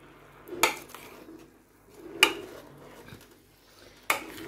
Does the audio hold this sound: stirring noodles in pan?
yes